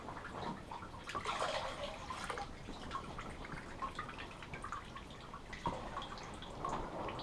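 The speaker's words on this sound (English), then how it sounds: "I ended up filling up everything else that I had with the water from the fish tanks." Fish tank water is poured and splashed into containers inside a greenhouse, a steady trickling and dripping at close range with brief louder gushes, no voices.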